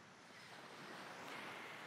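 Ocean waves washing onto the shore at Moreton Island, a faint, steady surf hiss with a soft wind-like roar that builds slightly, no voices.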